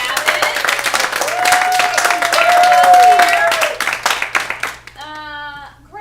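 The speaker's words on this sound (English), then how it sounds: "Please give a round of applause for Carly and Gavin." Audience at a live All Stars show applauding a couple after intermission, a dense burst of clapping mixed with whoops and cheering voices, tapering off as talk resumes at the end.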